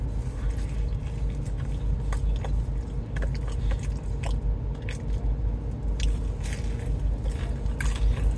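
Close, crunchy bites and steady chewing of a medium cheese pizza, with repeated crisp crackles and soft squishes over about eight seconds and no talking.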